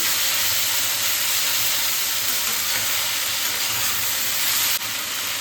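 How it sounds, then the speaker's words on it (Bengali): Mixed vegetables with green chillies frying hard in a pan over high gas for an eggplant, potato, prawn and spinach curry, a loud, steady, close sizzle and hiss with faint stirring scrapes throughout. "গ্যাসটাকে জোরে দিয়ে ভালো করে সব রকম সবজি দিয়ে ভালো করে নাড়াচাড়া করে নিয়েছি"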